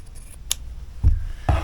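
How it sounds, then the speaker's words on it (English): Scissors snip through sweatshirt fabric pieces at close range, a few short crisp cuts with quiet pauses between them. "So I'm going to cut them in two right here through the middle"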